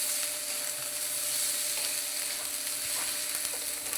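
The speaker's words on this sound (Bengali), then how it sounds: "এরপরে আদা বাটাটা দিয়ে দিলাম, দিয়ে লাড়বো, ভালো করে ভাজাবো" Ginger paste fries in a pan after garlic paste, a constant close sizzle punctuated by scraping stir strokes, with no voices.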